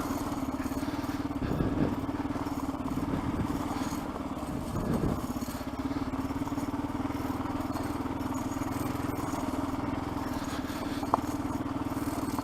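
A dirt bike engine drones steadily while riding a trail along an abandoned railway, a constant close hum with a few rougher bumps and scrapes early on and no break.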